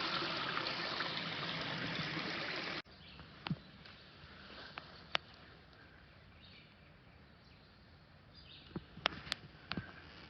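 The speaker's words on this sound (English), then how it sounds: "There's lots of little mini waterfalls stirring the water up." A mountain stream stirred by little waterfalls rushes loudly for about three seconds, then cuts off abruptly, leaving a quiet background with scattered faint clicks and taps.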